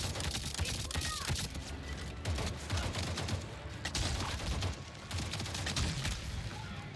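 Gunfire in the video game Avatar: Frontiers of Pandora rattles in quick repeated bursts over a dense, steady bed of game ambience, moderately loud throughout.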